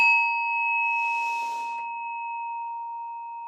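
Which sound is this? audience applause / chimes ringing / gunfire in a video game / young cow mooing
chimes ringing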